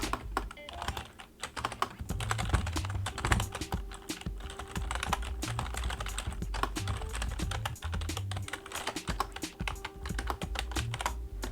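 Steady, rapid typing on a computer keyboard, with dense clicking keystrokes running continuously and fairly close throughout, with no talking.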